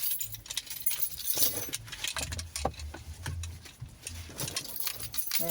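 Metallic jingling and clinking of car keys, close by, in irregular bursts with some low handling noise underneath.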